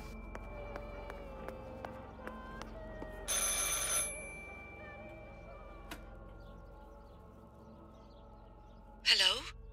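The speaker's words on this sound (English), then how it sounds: "I should pick up the phone but remain silent" A telephone rings in the video game Martha is Dead: a bright electronic ring burst, a pause, then another short ring, over quiet game ambience with faint ticking.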